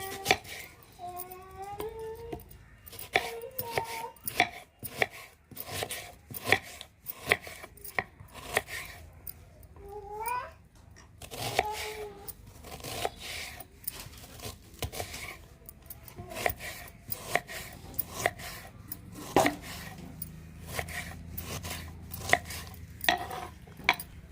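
A knife chops onions and tomatoes on a board, giving a long run of rapid, crisp, evenly spaced cuts at close range, with occasional scraping and faint background sounds.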